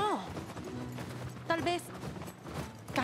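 Horse hooves clip-clop along at a walking pace in the video game The Last of Us Part II while people talk over them, with a brief sharp burst partway through.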